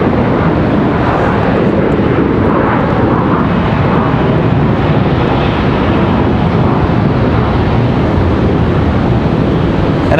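An Embraer ERJ jet taking off at Charlotte Douglas airport makes a loud, continuous broadband roar close by, with wind buffeting the microphone throughout and no voices.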